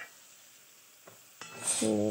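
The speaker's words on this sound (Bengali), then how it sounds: "মশলাটা কড়াইতে দিয়ে দিলাম।" A watery spice paste of ginger, turmeric, chilli, cumin and coriander is tipped into a hot wok after a near-silent start, bursting into a loud, close sizzle in the final second.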